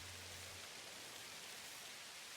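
Steady rain falls in the video game Satisfactory, a soft, even hiss of broadband patter that runs without a break, faint and with no voices.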